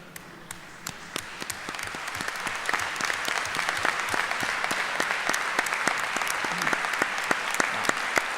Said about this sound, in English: You've already given yourself a big round of applause